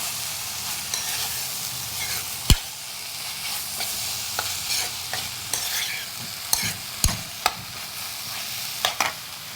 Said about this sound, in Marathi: सगळं व्यवस्थित मिक्स करून घ्यायचं याच्यामध्ये.